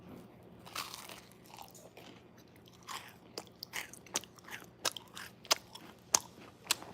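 Close, crisp bites and crunches into a sweet macaroon, a series of sharp cracks that grow louder and more frequent, with quieter chewing between them and no talking.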